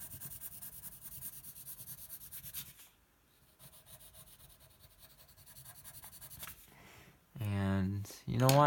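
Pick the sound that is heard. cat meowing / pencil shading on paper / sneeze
pencil shading on paper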